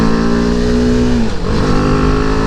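A BMW G310R motorcycle engine drones loud and close, holding a steady buzzy pitch before the revs dip briefly and recover, with a strong vibrating, rough character and no voices.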